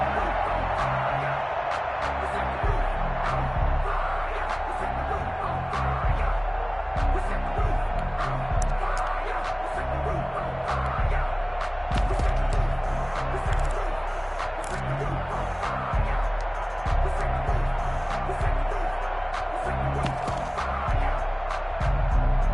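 Stadium crowd roaring steadily through a PS4 American football game featuring Brady and the Bucs, a dense, constant wall of cheering with a sports commentator talking over it throughout.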